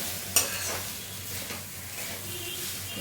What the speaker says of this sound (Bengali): কিছুটা করে চাল দিয়ে আবার মিক্স করে নেবো ভালো করে